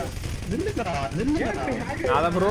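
Minigun firing in GTA 5, a loud rapid stream of shots running under excited talk and shouting.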